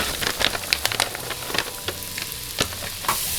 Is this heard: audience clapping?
no